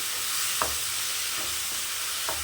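Chopped tomatoes and onions sautéing in a pan, a constant soft sizzle with a few light scrapes of a spoon stirring now and then, close and gentle.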